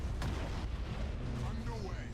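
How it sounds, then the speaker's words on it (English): Starship main batteries fire in the Battlefleet Gothic Armada 2 space battle game, heavy booming cannon blasts rolling into a dense rumble with overlapping reports, while a voice speaks over the barrage. "Ramming speed. Main batteries fire!"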